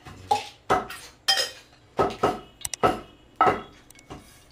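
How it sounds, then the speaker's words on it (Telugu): A pan goes onto the stove for tempering spices, with a series of sharp metallic clanks and knocks of cookware close by, spaced irregularly with quiet gaps between them. "నేను పెనం పెట్టానండి"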